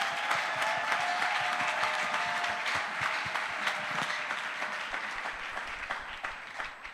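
A church congregation in Kinshasa bursts into sustained applause for the pastor's wife at a Sunday celebration service, a dense, loud wash of many hands clapping together that tapers off slightly toward the end.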